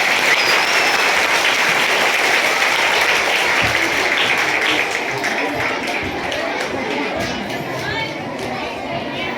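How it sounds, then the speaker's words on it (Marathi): Audience applause for a speaker at a lecture event, a dense sustained round of clapping from a large crowd, loud and steady before thinning slightly toward the end, with chatter beneath. "सरांसाठी परत एकदा जोरदार टाळ्या झाल्या पाहिजे"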